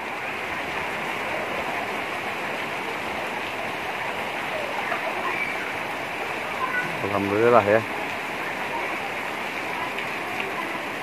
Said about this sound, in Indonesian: hampir semua daerah Cikalong Kulon ini sudah hujan besar nih mah